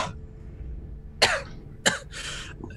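A game master's voice acts out a character's cough during a tabletop role-playing session, two or three short harsh coughs with a throat-clearing rasp, close and alone.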